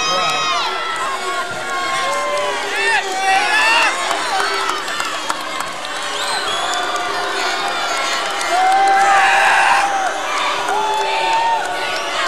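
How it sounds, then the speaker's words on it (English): A large crowd at a high school boys' basketball game loudly jeers the Everett cheerleaders, a sustained, dense roar of booing and shouting from many voices that holds steady throughout. "The Everett cheerleaders gain a huge boo from the crowd."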